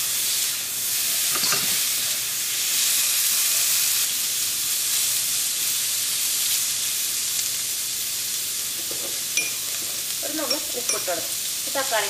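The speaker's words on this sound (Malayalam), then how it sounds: "ഇതിലേക്ക് തക്കാളി ചേർക്കാം." Tomatoes sizzle and fry in a pan for a Kerala cauliflower masala, a steady loud hiss with bursts of stirring and spatter, heard alone without talking.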